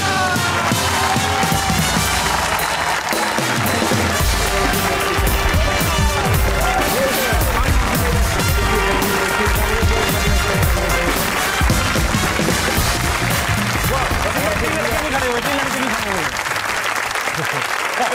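A studio audience applauds and cheers loudly and steadily for cricketer Wasim Akram on a comedy talk show, a dense wash of clapping with crowd noise throughout.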